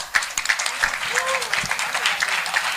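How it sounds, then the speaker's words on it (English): An audience claps enthusiastically at the launch of the book Eat Delete Junior. The lively applause is mixed with cheering voices and a few scattered calls, and the crowd sound is close and continuous. "Big round of applause for Karan and Mira."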